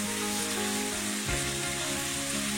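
Elephant apple pickle sweetened with jaggery sizzles steadily in a pan over low heat as it is stirred, a soft continuous frying hiss with no talk.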